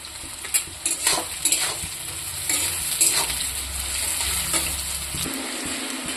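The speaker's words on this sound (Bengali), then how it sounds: "পেঁয়াজটা একটু লাল লাল করে ভাজবো।" Onions sizzling in hot oil with a few bay leaves for a chicken curry, a steady fry hiss under scattered scrapes and clinks of a spoon stirring against the pan, close and fairly loud throughout.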